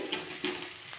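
Ginger garlic paste frying in a pan gives a soft, steady sizzle with a few brief spits and crackles, fairly quiet and close throughout.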